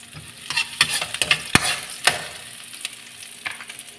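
Garlic fries in a pan for sotanghon while being stirred. Irregular scrapes and clatters from the utensil sit over a steady sizzle, close and fairly loud, with no talking.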